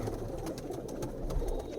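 Pigeons coo softly at a fancier's loft in Allahabad, a faint run of short repeated calls over a low steady background hum.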